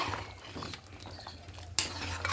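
A ladle stirs vegetarian khichuri of atap rice in a cooking pot, giving soft scraping and light clinks against a low steady simmer, with one sharper knock near the end.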